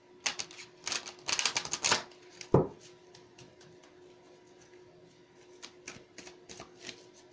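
Oracle cards shuffled in quick riffling bursts, then a sharp slap as a card is pulled and laid down, followed by softer scattered card handling, close and crisp in a quiet room.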